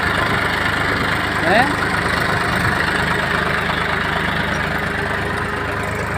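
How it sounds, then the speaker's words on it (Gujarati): A driverless tractor's engine rumbles steadily at idle on a farm, a constant low drone with a faint brief clatter partway through. "ડ્રાઈવર વગરનું ટ્રેક્ટર હો ભાઈ આ એકલું હાલે"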